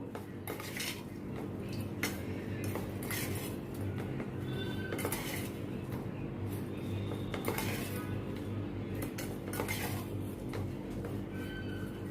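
Spiced taro (arbi) pieces being mixed in a pot with refined oil and masalas, giving a steady run of metallic spoon-on-pot scraping and clinking with no talking.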